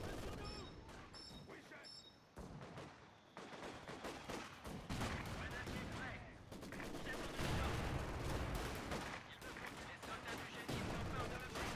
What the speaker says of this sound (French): il va tomber sous le feu de ma MG